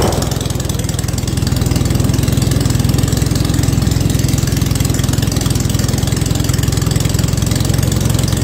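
A small engine runs with its choke turned off after being flooded, idling loud and close in an even, fast chugging drone that continues throughout without voices.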